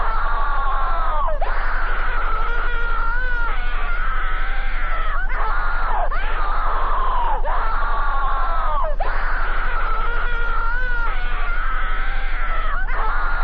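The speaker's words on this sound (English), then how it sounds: "as the video goes on, the screaming becomes louder." Loud, continuous screaming from a creepypasta animation: layered, wailing voices that swell and fall in long overlapping cries, with no speech over them.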